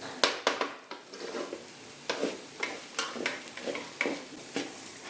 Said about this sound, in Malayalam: അതുകൊണ്ട് നന്നായിട്ട് നമുക്ക് ഇങ്ങനെ ഇളക്കി കൊടുക്കാം